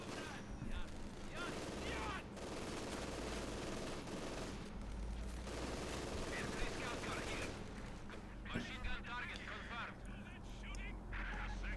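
An MG42 machine gun fires at retreating Germans in the video game Company of Heroes 2, rapid bursts amid distant battle noise, with someone talking over it.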